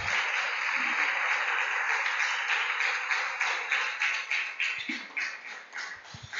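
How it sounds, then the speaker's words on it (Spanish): Sustained applause from a church congregation honoring the King of Glory, a steady wash of many hands clapping that stays fairly loud throughout, thinning slightly toward the end, with no talk over it. "Den un aplauso al Rey de Gloria."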